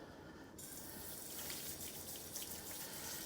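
Tap water runs steadily into a sink to rinse broccoli and a purple organic carrot, a continuous close gushing stream that swells slightly after starting, no talk.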